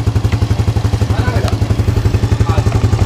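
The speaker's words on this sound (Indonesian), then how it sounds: "Oke, mesin sudah nyala ya." A Yamaha Jupiter motorcycle engine, which still misfires after a rotor part was replaced, runs at a steady idle with a loud, close, rhythmic pulsing throb and light mechanical clatter, alone and uninterrupted.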